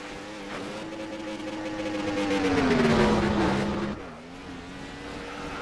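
A racing car at Bathurst, heard from a TV broadcast, holds a steady engine drone that climbs to a louder peak, then drops in pitch as it passes and fades back down. No one speaks.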